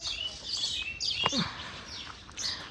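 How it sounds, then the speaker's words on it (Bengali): Several birds chirp and tweet in quick bursts, fairly close, over a quiet outdoor background. "পাখিদের কিচিমিচি শব্দ শুনতে পাচ্ছ খুব শব্দ"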